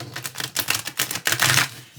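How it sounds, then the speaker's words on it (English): A Spiral Tarot card deck being shuffled, a quick, close run of crisp riffling clicks and flutters ending in a denser burst of card noise. "Alright, one more shuffle this way."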